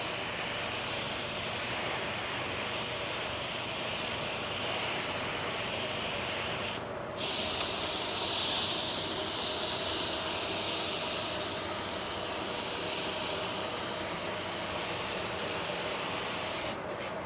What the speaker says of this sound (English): We just want to introduce that paint to the surface, get it covered, let it flash off